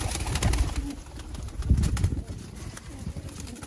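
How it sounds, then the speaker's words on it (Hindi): Several pigeons coo in a low, busy murmur, with rustling and shuffling noise throughout, fairly close. "फड़त वाले ते सस्ते कबूतर लैके आ गए हैं"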